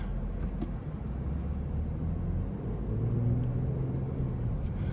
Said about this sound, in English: relatively quiet even though it has a twin turbo V6